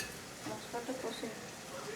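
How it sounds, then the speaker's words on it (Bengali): Spice paste with salt is fried and stirred in a pan, a low steady sizzle broken by soft scraping strokes of a spoon, close and unaccompanied by speech. "আমি এইদিকে মশলা কষাচ্ছি"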